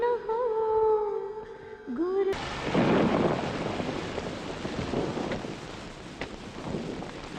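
A brief musical passage cuts abruptly to heavy rain pouring down in a film scene, a loud, wide wash of falling water with a low thunder rumble swelling near the start and occasional louder drops.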